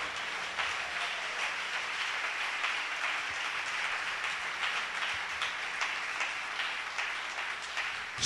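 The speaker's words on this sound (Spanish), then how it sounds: "Dele ese aplauso al Señor." A church congregation applauds during a sermon, a sustained, dense wash of clapping that stays fairly quiet and distant from start to finish, with no voices standing out.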